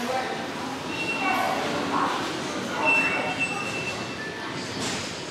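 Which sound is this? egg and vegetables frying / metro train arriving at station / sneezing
metro train arriving at station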